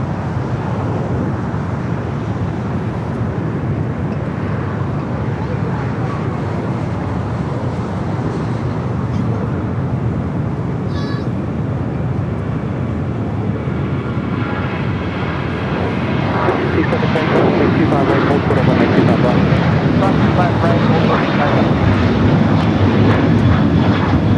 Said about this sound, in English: Next takeoff here on the south side, a flight to Phoenix, 737-800, American Airlines flight